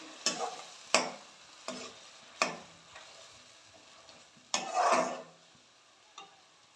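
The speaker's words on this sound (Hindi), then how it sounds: "और इसे अच्छे से भूनने तक मिक्स करेंगे।" Tomato puree made from three tomatoes fries in a pan, with sharp intermittent scrapes and taps of a spoon stirring it, then a longer wet sizzling stir, over faint frying noise and no speech.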